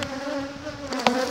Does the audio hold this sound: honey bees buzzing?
yes